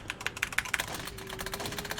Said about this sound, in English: you're going to hear me mash the heck out of my keyboard this entire time